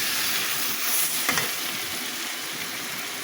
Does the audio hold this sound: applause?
no